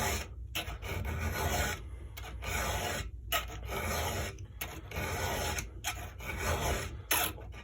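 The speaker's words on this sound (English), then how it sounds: "remember, sharpen that tooth till it's sharp" A hand file sharpens a chainsaw tooth at the factory angle with repeated close, gritty rasping strokes, each separated by a short pause in an even rhythm.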